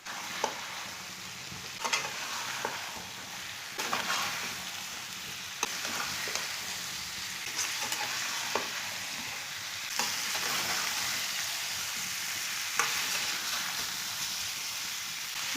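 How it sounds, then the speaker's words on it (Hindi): Boiled potato masala frying in a pan as it is stirred, with a steady soft sizzle and periodic scraping clicks of the spoon throughout. "इसे अच्छी तरह मिक्स कर लेंगे।"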